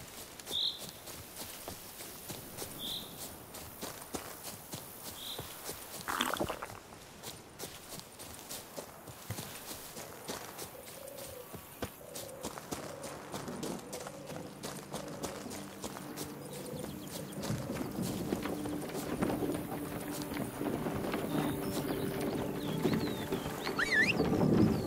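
Hooves of the horse Roach in The Witcher 3: Blood and Wine clip-clop in a steady walking rhythm at moderate volume throughout, with faint ambient game sounds around them.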